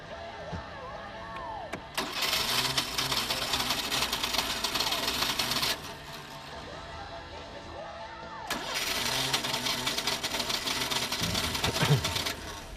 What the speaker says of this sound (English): The starter seems to have jammed.